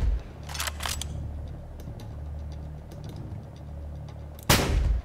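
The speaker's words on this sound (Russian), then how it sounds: "Отставить, слишком плотный обстрел." Heavy gunfire and artillery from the video game Medal of Honor Warfighter: dense crackling bursts and low rumbling fire throughout, with a loud close blast near the end.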